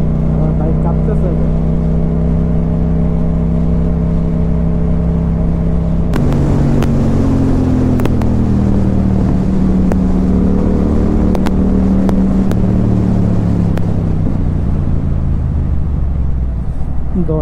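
Motorcycle riding on a highway with the bike vibrating, a steady loud engine drone with wind roar throughout and a few sharp clicks and knocks in the middle.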